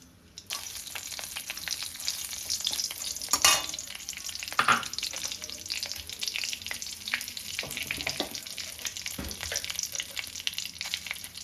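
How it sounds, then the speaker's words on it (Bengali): Whole garam masala, bay leaf, dry chillies and cumin fry in oil with a steady close sizzle, broken by scattered scrapes and clinks of stirring, with no voices. "আমি কিছু গোটা গরম মশলা, তেজপাতা আর শুকনো লঙ্কা ফোড়ন দেব। আর দেব একটু জিরে।"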